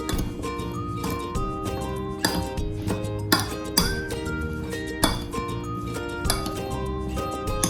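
Salad ingredients with salt and lemon tossed together in a bowl, a busy run of bright glassy clinks and taps from a utensil striking the bowl, repeated quickly and irregularly at close range, with no talking.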